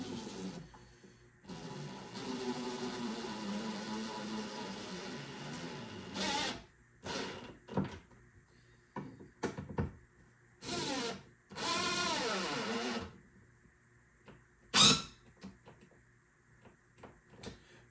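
A power drill pre-drills and countersinks holes with a 3/8 bit for wooden pegs while building a wooden stair landing, giving several short, loud bursts of whirring separated by pauses and quieter handling.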